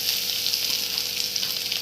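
Onion and capsicum pieces fry in a pan, giving a steady, close hiss of sizzling with no pauses and no voices.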